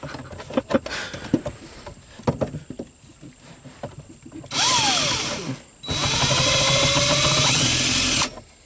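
A power drill whirs loudly in two sustained bursts, rising in pitch as it bites into metal while installing a subwoofer in a truck, after a stretch of scattered clatter and handling noise.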